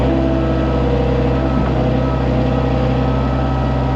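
A Kato excavator's diesel engine drones loud and close with a steady low rumble, a slight shift around midway as the throttle changes, then holds at a constant idle.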